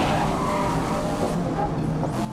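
A race car in GRID (2019) drives a mountain track. Its engine roars steadily with tire noise throughout, loud and close, with no voices.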